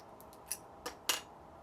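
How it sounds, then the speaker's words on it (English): Small scissors snipping wig lace, with a few quick, crisp clicks close by in a quiet room. "Let me switch to my small scissors."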